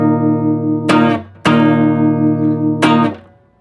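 Electric guitar strums a punk-style power chord with an extra note stacked on top, three sharp strikes that each ring out and decay, played alone with no talking.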